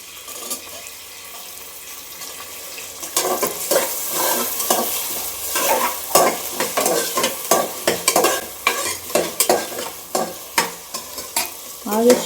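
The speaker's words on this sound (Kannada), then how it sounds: "ಆದಷ್ಟು ಇದು ಹಸಿ ವಾಸನೆ ಎಲ್ಲ ಹೋಗೋವರೆಗೂ ಚೆನ್ನಾಗಿ ಫ್ರೈ ಮಾಡ್ಕೋಬೇಕಾಗುತ್ತೆ." Potatoes, green peas and beans fry in a pan for mint pulao, with a soft sizzle. After a quiet start, a spoon stirs in quick, repeated scraping strokes up close.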